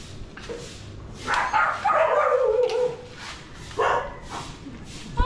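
A dog barks and yips nearby in a few loud, strained bursts, with a whimpering tone between them and background noise.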